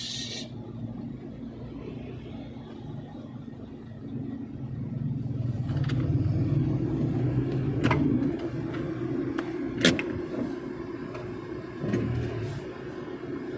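Heavy highway traffic in Naga City, with cars and motor vehicles rumbling past close by in a steady, loud engine drone, punctuated by a few sharper passing surges and clanks.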